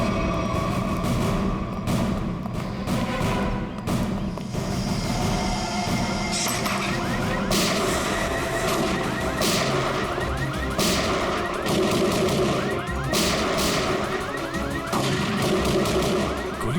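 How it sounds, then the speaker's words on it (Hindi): Gunshots crack out repeatedly as sharp, irregular bangs over a dense, continuous rumbling background noise. "गोली चला कौन है?"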